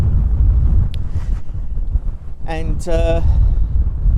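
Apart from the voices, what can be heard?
wind blowing on microphone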